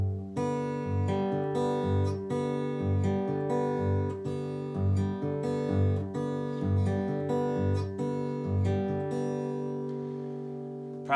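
Fingerstyle acoustic guitar played with a two-finger picking pattern, a steady alternating bass thumping under repeated higher plucked notes, even and continuous at close range with no voice.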